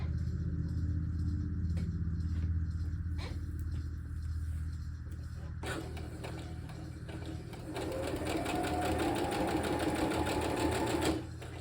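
A sewing machine stitches fabric for a Christmas stocking in runs of rapid, rhythmic mechanical clatter, close and steady, with a brief pause before a faster final run.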